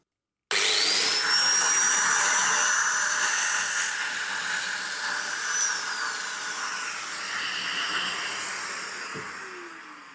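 Domino joiner plunging a mortise into Baltic birch plywood: a steady, loud motor whine with a high spinning-cutter tone that runs continuously and slowly tapers off near the end.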